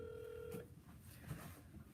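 A faint telephone tone plays over speakerphone during a cold call, a single steady beep cut off after about half a second, followed by low, muffled background noise.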